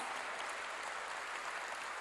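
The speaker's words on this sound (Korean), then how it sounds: "읽은 사람만 박수 쳐야 돼요" Applause from a church congregation during a sermon, a steady dense wash of many hands clapping together throughout, with no clear talking over it.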